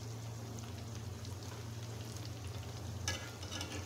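Thin slices for onion-stalk pakoras fry in hot oil, giving a steady, close crackling sizzle throughout, with a brief sharper burst of spattering near the end.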